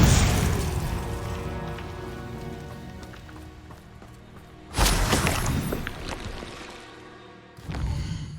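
Bombarda explosion spell cast in the video game Hogwarts Legacy: a loud blast opens, then a second booming burst hits midway and a third near the end, each with a rumbling, crackling debris tail.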